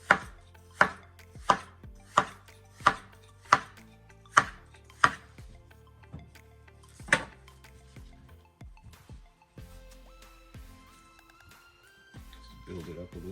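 A knife cuts sliced watermelon for a platter, making a series of crisp, evenly spaced chops, about ten in a row, followed by quieter handling sounds.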